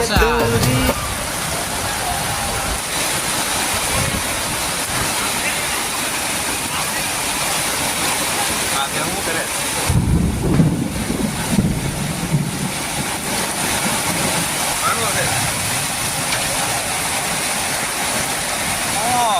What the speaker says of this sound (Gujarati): આને કહેવાય વરસાદ